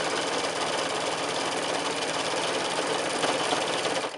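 Sewing machine stitching through several thick layers of quilted fabric at the cuff of an oven glove: a loud, close, steady motor whir with a rapid mechanical chatter that runs unbroken throughout.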